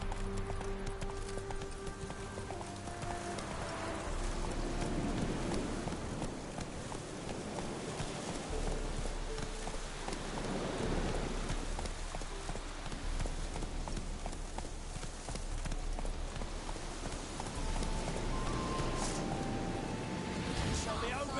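A horse gallops through the rain in The Witcher 3, its hoofbeats a continuous, loud clip-clop rhythm that runs from start to finish over dense background noise.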